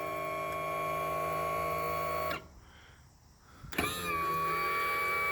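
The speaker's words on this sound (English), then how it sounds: "It's got the power tilt." An electric power-tilt motor whines steadily as it raises a Honda 25 hp four-stroke outboard on a pontoon boat, stops briefly, then resumes with a rising pitch, close and clear with no talk.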